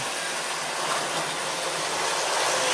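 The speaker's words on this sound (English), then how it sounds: "turn on the power, and your train should run" A DC-powered model railroad train runs along its track with a steady, even hiss and rumble that holds throughout without pause or voices.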